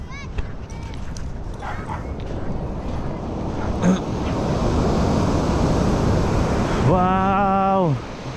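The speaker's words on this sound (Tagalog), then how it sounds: "Taas ng alon." High ocean waves crash in a broad continuous roar near the coast by the Sierra Madre, with wind buffeting throughout; people shout and talk over it, and a brief rising whoop appears near the end.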